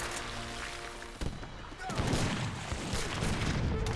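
Gunfire from the Age of Empires 3 battle game, a mix of rapid musket volleys and heavier booming shots over a busy battlefield din, with someone talking over it.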